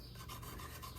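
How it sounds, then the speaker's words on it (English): A carbide gasket scraper scrapes old gasket material off the mating surface of a Suzuki GS750 motorcycle oil pan, giving a steady, close, raspy rubbing with faint rhythmic strokes. "So I got this carbide gasket scraper, and I'm using that to remove the gasket material from this"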